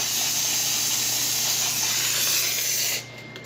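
An Expobar espresso machine with a newly replaced heating element: its steam wand lets out a steady, loud, close hiss for about three seconds before it cuts off sharply, leaving only a faint background.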